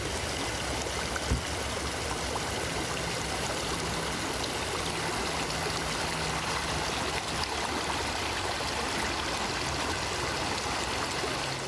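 The Villalobos river, a polluted river flowing toward Lake Amatitlán with untreated drainage water entering it, rushes in a steady, loud, unbroken wash of flowing water with no voices.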